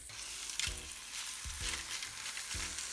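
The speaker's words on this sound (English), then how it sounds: "I'm frying now with the skin" Miso-marinated chicken sizzling skin side down in a hot pan, a steady bright crackle of frying with three soft low thumps as pieces shift, close and moderately loud with no voices.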